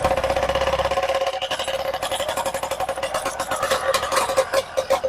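BikeBerry 100cc motorized bicycle engine fitted with an exhaust pipe, running steadily with a buzzing, chugging pulse that grows choppier and louder toward the end, close by and alone.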